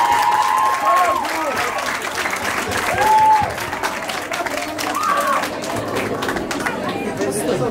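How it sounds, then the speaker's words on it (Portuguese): An audience claps for judges called onto the stage, sustained applause mixed with crowd chatter and a few whistles or calls, loud and close, fading toward the end. "Palmas para eles."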